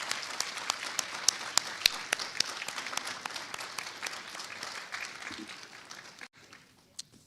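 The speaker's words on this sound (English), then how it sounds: "we'll give you all a big welcome and a round of applause" A round of applause welcoming new staff members at a staff kickoff event, sustained clapping from a modest crowd with a few sharp nearby claps, thinning out toward the end.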